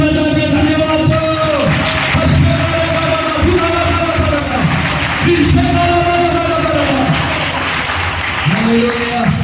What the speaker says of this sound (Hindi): यीशु मसीह की ताली बजा के धन्यवाद दो।